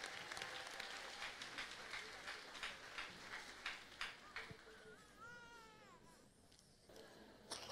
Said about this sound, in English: Clap for Jesus, the miracle worker